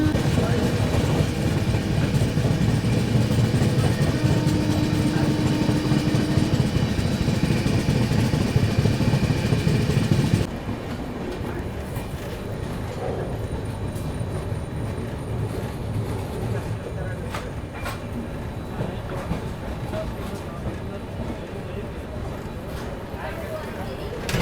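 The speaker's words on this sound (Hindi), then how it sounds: "ये चल रही है अपनी महाबोधि एक्सप्रेस" The Mahabodhi Express rumbles along at speed, a loud, continuous roar of wheels and carriages that drops to a quieter rattling clatter partway through, with speech intermittently over the noise.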